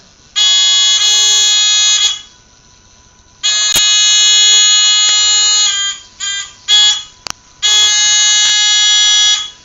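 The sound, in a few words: robot buzzer sounding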